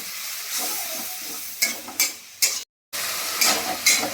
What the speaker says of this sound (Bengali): লঙ্কার গুঁড়ো, হলুদের গুঁড়ো, লঙ্কার গুঁড়ো দিয়ে আমি মশলাটাকে একটু ভালো করে কষে নিই।